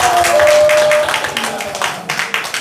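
A church congregation at a healing camp claps in rhythm while a preacher speaks over them and people shout out "wa!" together.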